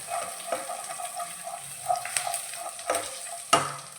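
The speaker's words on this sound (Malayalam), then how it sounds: "2 സവാള കൂടി ഇതിലിട്ട് വഴറ്റാം." Onions sauté for a paneer masala curry, a soft sizzle with spoon stirs and scrapes in the pan, a few sharper clinks standing out over a faint steady hiss.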